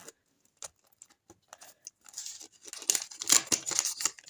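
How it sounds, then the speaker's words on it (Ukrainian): Crinkly rustling and tearing of a paper packet being opened up close, starting with scattered soft clicks and building into denser crackling. "відкриваємо ось такий ось пакетик"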